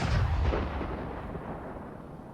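A ship-mounted weapon fires in the video game Space Engineers, a single heavy booming blast at the start with a rumbling tail that slowly fades over a couple of seconds.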